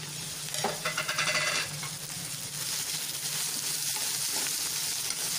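Ridge gourd pieces drop into hot oil tempering spiced with turmeric, giving a sharp burst of sizzling that settles into a steady, close frying hiss, with a few faint clinks of utensils.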